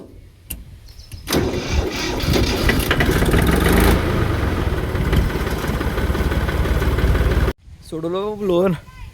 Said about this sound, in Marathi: बघा ट्रॅक्टरला ब्लोअर जोडलेला आहे.